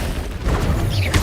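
Explosions from the Confringo spell in the video game Hogwarts Legacy: a dense, noisy blast with a rumbling low end and crackling bursts, loud and continuous across the short moment.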